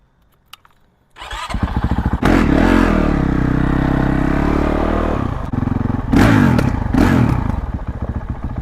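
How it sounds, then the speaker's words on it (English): A Honda CRF450R dirt bike with its Yoshimura exhaust insert removed starts up after a few clicks, then runs loud and close with a raspy idle and short blips of revving. "So you guys got to hear it with the insert out. It's quite loud."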